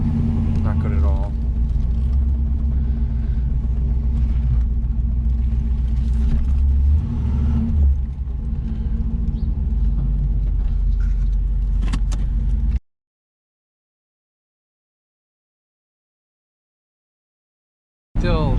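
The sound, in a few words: 1984 Camaro Z28 engine with high idle, late shifting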